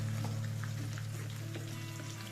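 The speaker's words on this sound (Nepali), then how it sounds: "पकने के लिए छोड़ देंगे प्याज को ब्राउन होने देंगे" Onions frying in a pan give a soft, steady sizzle with scattered light crackles and pops, faint and continuous under a low background hum.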